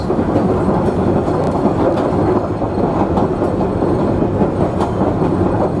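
Savannahlander train rolling along the rails with windows open, a steady loud rumble of wheels and carriage noise with faint clicks throughout.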